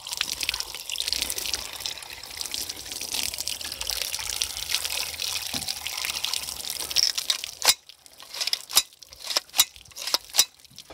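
Water pours steadily over a sand-clogged Daniel Defense DDM4V7 rifle, a continuous close splashing gush for several seconds, then breaking into scattered sharp drips and trickles as the flow stops.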